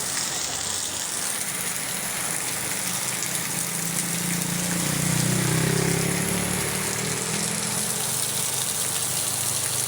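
Heavy rain and a rushing water current make a dense, steady hiss that swells slightly near the middle, with a low rumble underneath and no one speaking.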